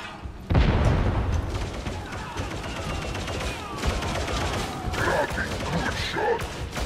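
A grenade goes off in the Warhammer 40k: Darktide game with a sudden loud boom, followed by continuous gunfire and combat clatter while voices speak.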